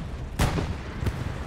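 Two heavy tank cannon shots boom in quick succession in a World War II tank video game community event featuring Panzer IVs, each a sharp, loud blast with a short rumbling tail.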